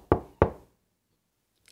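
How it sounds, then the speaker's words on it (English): Two firm knocks on a wooden door, close and evenly spaced, then silence, with a faint sound at the very end. "someone knocked at the door."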